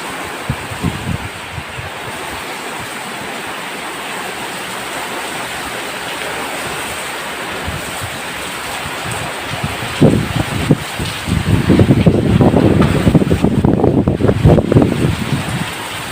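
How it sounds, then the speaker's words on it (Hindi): Heavy rain pours down in a constant broad hiss, with a louder rumbling surge near the end as the downpour intensifies or runoff splashes close by. "कितना तेज बारिश हो रहा है"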